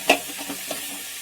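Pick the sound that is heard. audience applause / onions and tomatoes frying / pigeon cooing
onions and tomatoes frying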